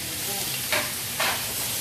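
Beef for goto sizzles softly in a pan, a low steady fry with two brief louder hisses as the meat is stirred, no talking.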